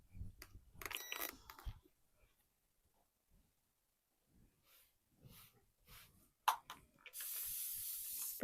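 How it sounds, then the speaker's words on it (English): Short hisses of a spray bottle of starch onto fabric while pressing quilt seams, a few quick spritzes separated by quiet pauses, then a longer sustained hiss at the end. "Spritz some starch or pressing spray and press again."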